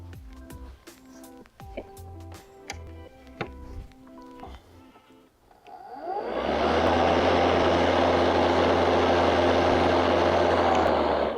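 Husqvarna LC 137i cordless lawn mower starting up after several seconds of light clicks and knocks, then running with a steady, loud, even whir that holds to the end.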